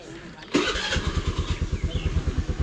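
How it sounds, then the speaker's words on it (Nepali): A motorbike engine starts with a sharp catch and then settles into a rhythmic, close idle, putting steadily as it warms up in cold weather. "मेरो बाइक एकछिन तातिँदैछ"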